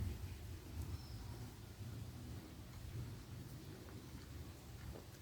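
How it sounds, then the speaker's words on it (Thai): Rain falling steadily, a soft continuous hiss and low patter that is quite faint and even throughout, with no voices. "ฝนตกอีกแล้วค่ะ"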